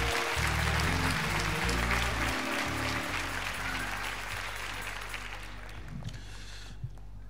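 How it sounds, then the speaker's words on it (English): Church congregation at a Baptist service clapping their hands together, a loud dense wash of applause that fills the space and slowly fades out toward the end. "Come on, clap your hands for that."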